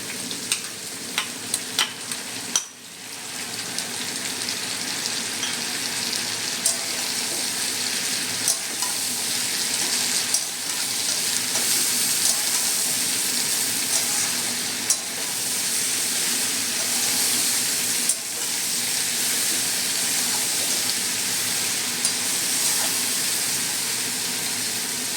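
Green chilli and garlic paste fry with vegetable stalks for a Bengali data chorchori, a loud continuous sizzle close by with occasional stirring scrapes and a few sharp utensil taps.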